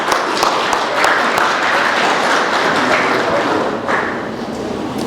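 An audience claps together at a business and civic community event, a steady, dense patter of applause that holds for several seconds before thinning out.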